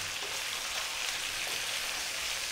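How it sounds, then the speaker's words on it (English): Red onion dropped into a hot pan of chicken, sizzling steadily and fairly close, a constant hiss of frying with no talk. "We're now going to drop in that onion."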